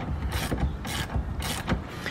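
A bolt on a Nissan 240SX steering shaft is tightened with a ratchet wrench, giving several short bursts of rapid metallic clicking with brief pauses between strokes, close up and moderately loud.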